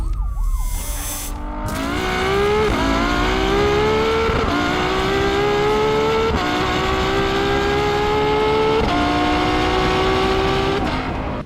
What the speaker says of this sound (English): I want to hear more of that glorious V12 engine.